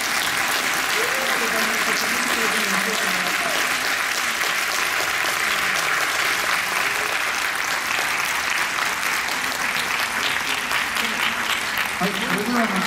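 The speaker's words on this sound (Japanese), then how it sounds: "大きな拍手で" Sustained applause from the audience at a Tokyo International Film Festival Q&A for the film team of a boxing drama, steady and dense throughout, with a few voices murmuring faintly underneath.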